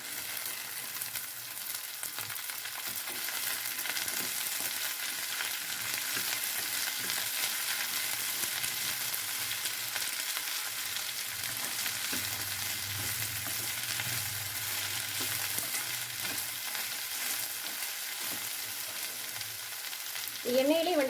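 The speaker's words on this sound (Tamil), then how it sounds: "எண்ணெயிலே வெண்டைக்காய் நல்லா வணக்கிக்கலாங்க" Cut okra (vendakkai) with curry leaves fries in oil for poriyal, giving a steady, moderately loud sizzle that runs on without break, with no talk heard.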